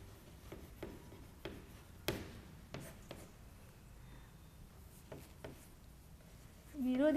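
Soft scratchy strokes of handwriting on paper, a pen or pencil forming words in short intermittent scrapes, close but faint against a quiet room, ending in a brief louder rustle and a squeaky tone.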